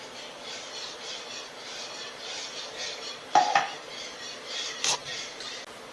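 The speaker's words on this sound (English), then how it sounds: "Then we're going to mix in our enchilada sauce." A utensil stirs enchilada sauce in a pan with milk, giving soft rhythmic scraping and a couple of sharp metallic clinks against the cookware, close and clear.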